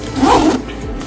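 A single zipper on a Wandrd Roam 9L sling bag is pulled in one quick, loud, close rasping stroke, followed by a brief softer scrape.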